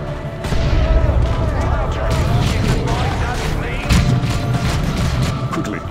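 Battlefield gunfire and artillery in the real-time strategy game Warhammer 40,000: Dawn of War II Chaos Rising, a steady clattering of shots and dull booms over a rumbling bed, mixed under a shouting voice.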